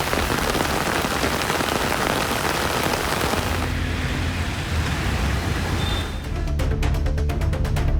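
Heavy rain pours in a dense, loud, steady roar on a road, with faint traffic rumbling beneath and no voices.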